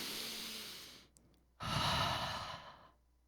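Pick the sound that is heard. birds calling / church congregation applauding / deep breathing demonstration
deep breathing demonstration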